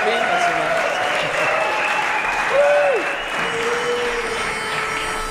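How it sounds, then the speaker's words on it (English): Steady applause from a crowd welcoming a barbershop quartet on stage, moderately loud and continuous, with voices briefly heard over the clapping. "Thank you for clapping."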